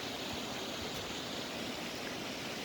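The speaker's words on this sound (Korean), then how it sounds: "저기 이렇게 인공 폭포하고 저쪽에 인공 폭포하고 여기 이렇게 분수가 있어가지고" Artificial waterfalls and a fountain in a lake park pour out a steady, dense rush of splashing water that holds evenly from start to finish, with no voices over it.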